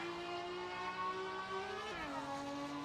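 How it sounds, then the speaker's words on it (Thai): An old, sluggish car engine in the video game Free Fire, with the engine overheating and close to failing, drones steadily up close, its tone dropping in pitch partway through as it labours. "เฮ้ยทำไมรถคันนี้มันแปลกๆทำไมมันอืดจังวะ"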